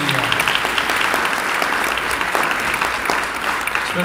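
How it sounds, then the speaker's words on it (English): A steady round of applause from a panel discussion audience, dense clapping filling the room at a consistent, fairly loud level throughout. "We should give him a round of applause"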